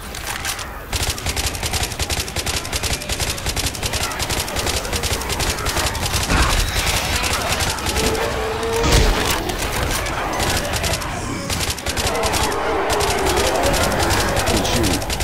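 Sustained gunfire from a Left 4 Dead 2 survival match in the rain, with rapid automatic bursts and heavy booms layered densely and loudly across the whole stretch, scattered impacts and crashes mixed in.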